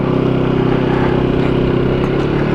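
A Peugeot Django 150 Sport scooter engine runs at a steady, close, loud drone with a constant low hum, and no one speaks.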